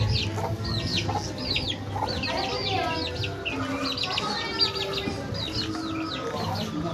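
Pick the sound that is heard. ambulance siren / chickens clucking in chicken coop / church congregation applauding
chickens clucking in chicken coop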